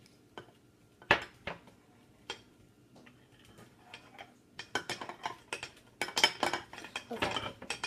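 A utensil scrapes and clinks against the sides of a mixing bowl of butter slime, scattered sharp taps at first, then quicker bursts of scraping and clicking, close and fairly quiet.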